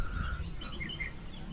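Faint village morning birdsong, a few thin chirps and calls scattered over a low steady rumble, soft and distant.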